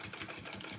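Domestic sewing machine top stitching through the thick bottom of a tote bag, a steady close mechanical whirr of rapid needle strokes running alone throughout.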